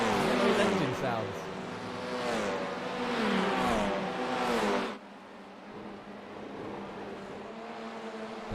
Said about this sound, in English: Those engine sounds.